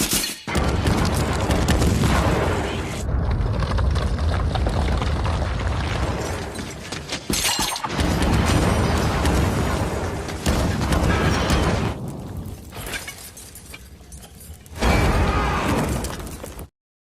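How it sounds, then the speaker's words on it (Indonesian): Large explosion from a landmine stepped on by soldiers: a sudden massive boom followed by a long, loud roar of blast and crashing debris, with further heavy bursts and rumbling surging on and off. "Barnett melarikan diri dari tentara Serbia, ia tak sengaja menginjak ranjau hingga menghasilkan ledakan besar yang menewaskan para tentara itu."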